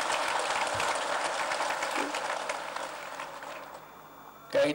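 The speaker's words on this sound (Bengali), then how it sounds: "তাদের সবাইকে আবার জোরে হাততালি দিয়ে একটা সবাই মিলিত হাততালি" An audience applauds award recipients being honoured with medals at a ceremony, a sustained wash of clapping that gradually thins and fades out before a short thump at the end.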